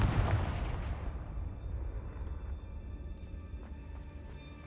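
A loud magical blast from the Confringo fire spell in Hogwarts Legacy bursts at the start and trails off into a long rumbling decay, with no talking.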